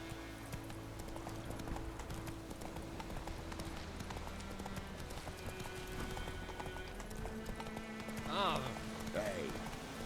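Horse hooves clip-clopping in a steady galloping rhythm in The Witcher 3 video game, fairly faint under a dense game-world background, with a brief whinny-like cry near the end.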